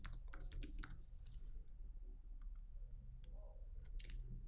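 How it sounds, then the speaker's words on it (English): Typing on a computer keyboard, bursts of sharp close key clicks in an irregular rhythm with short pauses, over a faint low hum. "start typing email signature"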